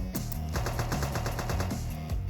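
Rapid bursts of gunfire in the video game One-Armed Robbery, sharp repeated shots in quick automatic succession, loud and close, with a few heavier single shots at the start and end.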